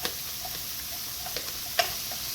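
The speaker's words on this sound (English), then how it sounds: "So I'm just sauteing some onions" Onions sauteing in a pan of avocado oil and a little olive oil, a steady soft sizzle with occasional faint ticks and pops throughout.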